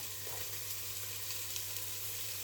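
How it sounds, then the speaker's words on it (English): Food fries in a soup pot at the start of a lentil and butternut squash soup, a faint steady sizzle with a low hum underneath and no talking. "we're just going to let that fry for a little while"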